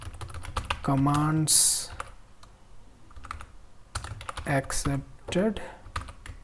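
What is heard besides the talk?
typing on a computer keyboard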